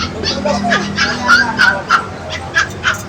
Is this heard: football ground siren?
no